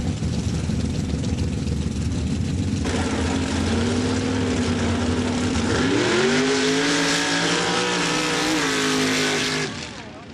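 Mud trucks in an MRA drag race at Laporte, Indiana, one a truck called Rabbit powered by a Steve Vance Race Engines motor, loud and close, engines idling then roaring up in a rising rev that holds before cutting off.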